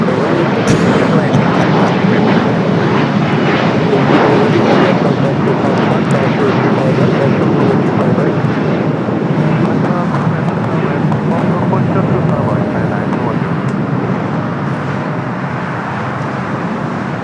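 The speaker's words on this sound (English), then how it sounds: "Dreamliner now on the move." A Boeing 787-9 Dreamliner taking off at Los Angeles International Airport, its broad engine roar loud and steady throughout, with road traffic noise mixed in underneath.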